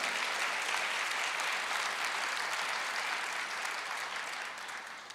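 A congregation applauds during a church service, sustained crowd clapping at a steady level that gradually fades toward the end.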